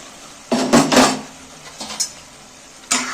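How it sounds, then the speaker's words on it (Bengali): A metal lid comes off a cooking pan of spinach and paneer with a couple of close, sharp clanks and rattles, a softer scrape follows, and then a final clatter after a pause. "দেখি চাপাটা খুলে অনেকক্ষণ হয়ে গেল"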